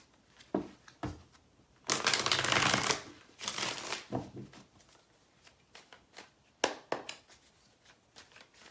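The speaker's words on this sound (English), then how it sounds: "I like to give a good shuffle." Tarot cards being shuffled by hand, a series of crisp riffling bursts and papery slaps, with one long dense riffle in the middle and shorter flicks before and after, close up with no talking.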